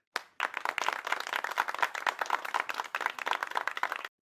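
Audience clapping fills the space at a political event about a mayoral administration, a dense, steady patter of many hands lasting about four seconds before cutting off.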